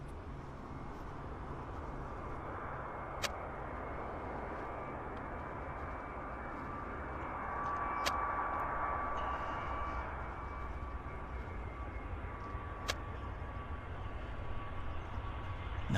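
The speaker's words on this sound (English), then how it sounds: "Let's go get this lander. This Delta Airlines A320." Delta Airlines A320 airliner landing at Vancouver Airport, heard as a steady, fairly distant broadband engine roar with a faint rising whine, continuous throughout with a few sharp clicks.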